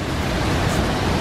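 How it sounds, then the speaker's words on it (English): Waterfall on a Maui hiking trail pouring into a pool about 40 feet deep, a steady, dense broadband rush that stays loud and even throughout without breaks. "We found the first waterfall."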